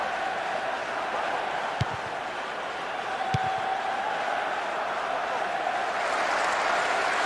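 A stadium crowd roars as a steady, dense wash of noise in the PS2 football game Bomba Patch, with two sharp thuds of the ball cutting through the cheering.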